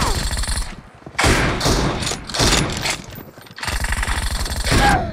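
Gunfire in PUBG Mobile played on a Poco X3 Pro phone, coming as loud rapid bursts of automatic shots separated by short pauses.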